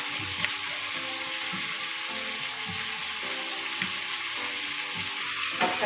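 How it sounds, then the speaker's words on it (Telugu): Tomatoes, ridge gourd and green chillies fry in hot oil, a continuous close sizzle and crackle with soft scraping stirs at intervals, heard alone without talk. "ఉట్టి టమాటాలు వేయించుకోవాలి ఉడకబెట్టుకోవాలి నూనెలో వేయించుకోవాలి"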